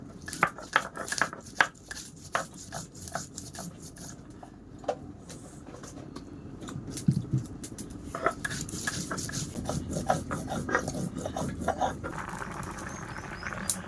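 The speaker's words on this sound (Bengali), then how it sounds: "তিলের উপরে একটু আদা নিয়েছি রসুন নিয়েছি আর জিরে আর মরিচ এবার একসাথে বেটে নেব" Sesame, ginger, garlic, cumin and chili are ground together into a paste, giving quiet, uneven rubbing and scraping with scattered sharp clicks throughout, with no voices.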